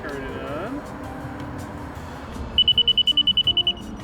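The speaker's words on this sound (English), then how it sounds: "There's our beeping." Homemade electronic beeper on a bicycle manual trainer sounds a quick run of about a dozen evenly spaced, piercing high beeps, loud and close, following some background noise and a brief voice.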